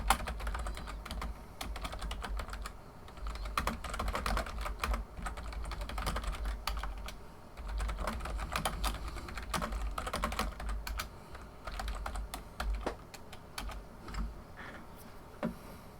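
Rapid, continuous typing of a message on a computer keyboard, dense close clicking with brief pauses, over a low steady background hum.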